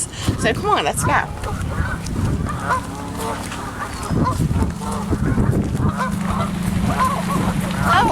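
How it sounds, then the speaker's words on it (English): Geese take off honking loudly and repeatedly nearby, a chorus of rough calls mixed with duck-like quacking, while a person talks and exclaims over the flock. "Look at the geese taking off."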